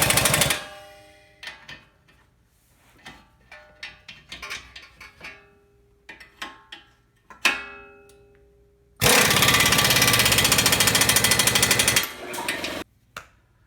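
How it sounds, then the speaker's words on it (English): Rapid ratcheting bursts from a wrench tightening a nut on a Honda Odyssey strut, a series of short clicking runs followed by a long loud buzzing burst near the end, with quiet gaps between. "I'm just going to come in and tighten this up really tight"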